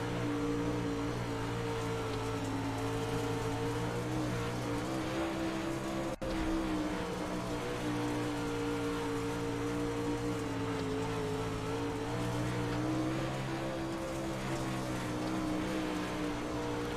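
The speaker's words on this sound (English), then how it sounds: "let's go down on board now with our Jekyll Control in-car camera shot on board with the 51 of Jacob Lassiter" Onboard sound from a Pro Late Model dirt race car on a dirt track during a world championship race, a loud steady engine roar held at high revs for the whole stretch, with one brief sharp dip partway through.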